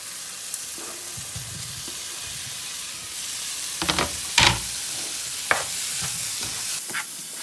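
Paneer cubes drop into a simmering curry gravy, giving a steady hiss and sizzle with a few louder crackling bursts midway, close and without talk.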